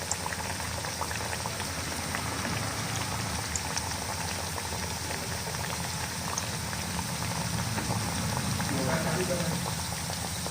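Aloo kachori sizzles and bubbles in hot oil in a small wok over a low flame, a continuous fine crackling hiss like boiling, close and steady, with faint traffic noise and a voice in the background.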